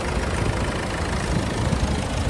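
A 2016 Ford EcoSport Titanium diesel engine idling, a loud, dense and steady rumble with a slight knocking texture, heard close and alone with no voices.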